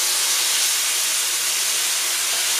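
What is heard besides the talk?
oil meeting soy sauce sizzling and spattering in a wok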